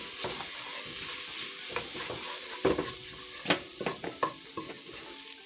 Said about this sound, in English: I'm gonna stir this up real quick.